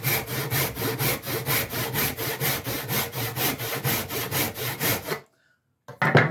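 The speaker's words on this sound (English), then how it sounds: "But even though it's a rip cut saw, it will cross cut." A rip cut hand saw cross-cutting a piece of wood, with loud, close, rhythmic push strokes in an even steady cadence, then a brief pause and the saw starting again.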